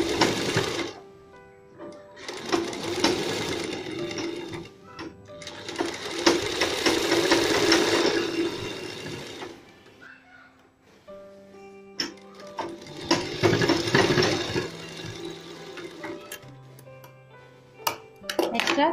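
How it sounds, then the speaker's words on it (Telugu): A sewing machine stitches a plain blouse in several sustained whirring runs, stopping between bursts for small clicks and handling sounds, close and fairly loud. "ఆ మార్క్ పైన ఇప్పుడు నేను స్టిచ్ చేసుకుంటున్నాను"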